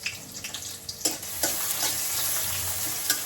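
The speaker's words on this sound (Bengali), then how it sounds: "আগে ডালটা তেলে দিয়ে নিচ্ছে" Lentils (khesari dal) frying in oil in a pan, a close, steady sizzle with a few sharp spatula scrapes and stirs, moderately loud and without speech.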